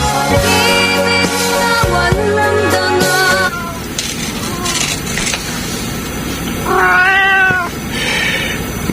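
Cats meowing close by, a long drawn-out pitched meow followed after a pause by another wavering, rising meow, with faint background noise between them.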